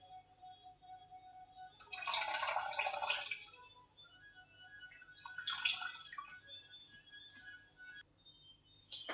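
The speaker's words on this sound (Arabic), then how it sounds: "بعدين ننزل بحوالي معلقه كبيره خل" A spoonful of vinegar is poured over cauliflower in two short, close liquid splashes separated by quiet pauses.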